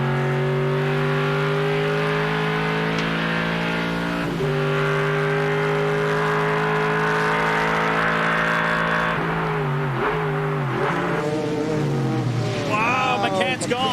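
Andy Pilgrim's Cadillac CTS-V race car roars from onboard during a World Challenge GT race at Mid-Ohio in 2004, its engine droning loud and steady, then dropping and rising through rapid gear changes and revving near the end.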